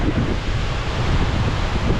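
Loud, steady rushing of a fast-flowing river close by in Scotland, a dense roar with wind buffeting mixed in and no voices.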